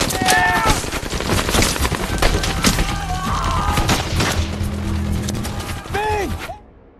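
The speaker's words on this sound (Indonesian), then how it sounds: "mereka lagi dihujanin tembakan dari 3 senjata mesin" Machine gun fire from three guns rains down in a war film ambush scene, with dense, rapid bursts and booms filling the scene, shouted voices over the top, and the barrage cutting off abruptly at the end.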